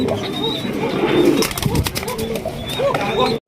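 Afsan racer pigeons coo softly and steadily at close range, with a brief flutter of movement partway through and people talking nearby.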